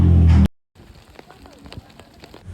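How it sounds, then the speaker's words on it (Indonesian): Sudden rain falling at a mountain campsite on Gunung Putri near Lembang, a soft steady patter of drops on tent fabric and ground, faint and close, following a brief loud burst at the start. "Nah kan bener tiba-tiba hujan."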